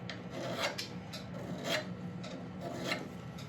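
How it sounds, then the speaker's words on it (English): A diamond sharpener drawn along the side of a woodturning tool blade gives a raspy, scraping rub that repeats in several strokes of steady rhythm. It is close but fairly soft, and no one speaks. "you can just draw up the side of the blade with a diamond grinder, a diamond sharpener"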